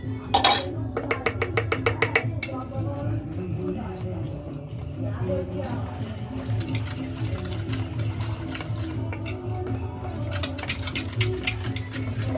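Batter mixed with milk in a bowl, a utensil clinking rapidly against the sides in quick rhythmic bursts at the start and end, over a steady low background hum.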